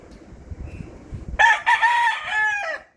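A rooster crows loudly nearby, a drawn-out multi-part call rising and falling, after a stretch of quiet background noise.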